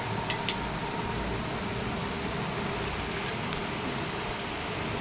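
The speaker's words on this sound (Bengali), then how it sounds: "এখনো বৃষ্টি পড়ছে" Steady rain falls throughout, a continuous broadband hiss with no break, loud and close, with a couple of faint clicks early on and no voices.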